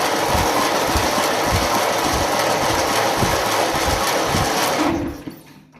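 A 1957 Ferguson FE35 tractor engine cranks on its starter in a loud, steady rhythmic churn of about five seconds, then cuts off into quiet.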